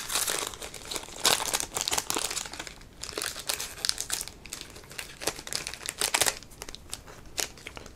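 Foil wrapper of a Kaldheim set booster pack crinkling and tearing open close up, in irregular bursts of crackling rustle with brief pauses between.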